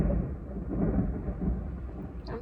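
Low, rumbling thunder rolling on for a couple of seconds, heard outdoors from a distance, faint and deep with no voices over it.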